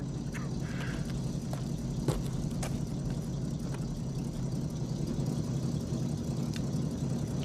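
A chauffeur-driven private car arrives with a steady, low engine hum at moderate loudness. A few faint clicks and knocks rise over the drone.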